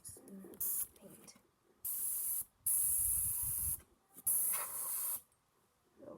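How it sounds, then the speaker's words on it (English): Several bursts of aerosol spray paint hissing, each lasting about a second, separated by short pauses with faint rustling and handling noise. "Okay, let's start spraying some paint."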